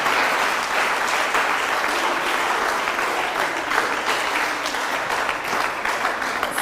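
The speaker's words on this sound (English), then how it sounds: "Let's give them a round of applause once again." Audience at a national school competition applauding the contestants: a steady, even roar of many hands clapping together, moderately loud and sustained throughout without pause.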